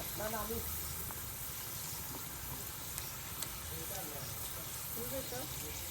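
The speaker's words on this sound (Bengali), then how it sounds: "ওই যে আলু ভাজা হচ্ছে" Potatoes frying in oil make a soft, continuous sizzling hiss in the background while people talk over it.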